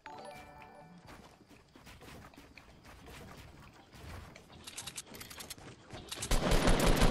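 Rapid gunfire in the Fortnite video game rattles in dense bursts that build from scattered shots to a loud, continuous barrage with mechanical clatter at the end.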